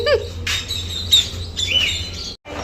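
Birds in an aviary at a Jamaican adventure park, chirping and squawking in quick bursts close by, with a low background hum.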